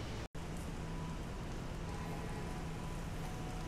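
Steady rain falls on a day tour around Taipei, Taiwan, a dense, even hiss of drops on surfaces that continues unbroken apart from a brief cut near the start, with no voices.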